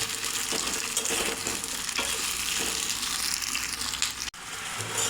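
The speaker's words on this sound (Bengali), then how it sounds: "এখন পেঁয়াজ আর ক্যাপসিকাম ভেজে নেব।" Onion and capsicum fry in hot oil with a steady, close sizzle that holds loud and even throughout, with a few faint stirring knocks.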